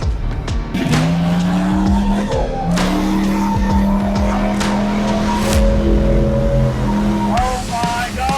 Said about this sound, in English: We're riding in a 5-ton.